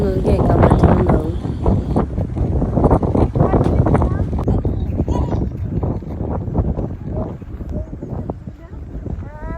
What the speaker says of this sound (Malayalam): വീഡിയോയിൽ കാറ്റിൻ്റെ സൗണ്ട് നിങ്ങൾക്ക് കേൾക്കാൻ പറ്റുന്നുണ്ടാവും.